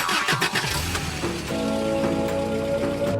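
A cartoon car engine cranks and catches, with a rough sputtering start that settles into a steady hum with rain falling, and no voices.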